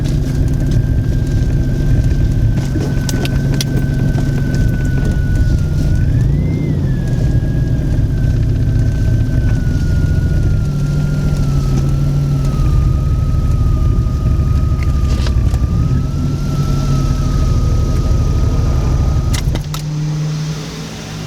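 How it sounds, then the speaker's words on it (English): A supercharged Pontiac Fiero engine runs with a steady low drone and a high supercharger whine that wavers slightly in pitch, heard from inside the car. "Oh, that supercharger."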